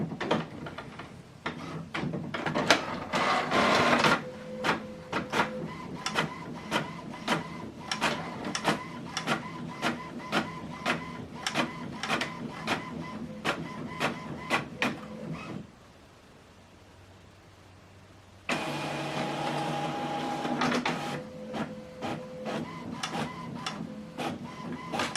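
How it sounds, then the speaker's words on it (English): An HP Envy printer runs a colour print, with rhythmic mechanical whirring, clicks and feed rattles, a brief quiet lull midway, then more motor whine and paper movement, close and continuous. "This document now is printing."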